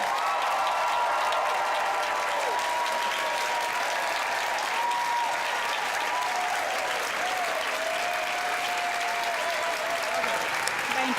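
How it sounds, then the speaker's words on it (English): Sustained applause from a large crowd at a graduation ceremony, steady and dense clapping throughout with a few faint cheers mixed in. "how about a big round of applause now for all the graduating students"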